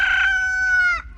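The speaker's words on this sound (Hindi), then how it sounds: "देखा आपने, मुर्गा भी अभी बांग दे रहा है, जिसका मतलब अभी सुबह हुई।" A rooster crows once at dawn in a village, a loud, close, drawn-out call that holds steady for about a second and then cuts off sharply, with nothing else over it.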